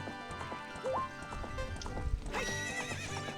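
In the Zelda Ocarina of Time video game, a horse gives a whinny while its hooves clip-clop in a steady rhythm, fairly quiet, with game sounds around it and no talking.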